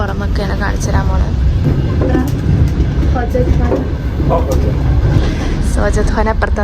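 Interior of a moving Uzbek passenger train running from Tashkent to Samarkand: a loud continuous rumble and rattle of the carriage with faint clicks on the rails, while people talk nearby over the noise.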